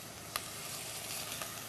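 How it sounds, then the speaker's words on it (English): Haricots verts sizzle in a pan over a high flame while cooking shrimp scampi, a loud steady hiss with a couple of sharp pops, close up and continuous, with no talking. "There's my sizzle. You know I love sizzle."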